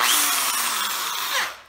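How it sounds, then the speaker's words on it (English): Power drill with a quarter-inch bit boring through metal on a hoverboard, a loud, steady high whine that runs throughout, shifting slightly in pitch as the bit bites in and rising briefly near the end. "now I'm just going to try and drill through"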